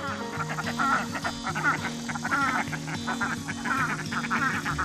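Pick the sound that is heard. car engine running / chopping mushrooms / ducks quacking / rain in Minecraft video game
ducks quacking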